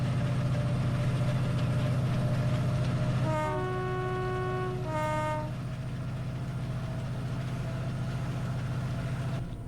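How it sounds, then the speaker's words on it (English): Simulated AP Class 68 diesel locomotive in Train Sim 2020 accelerating, with a deep, steady engine drone under two clear two-tone horn blasts partway through, then a slightly quieter running rumble. "this train accelerates really quickly"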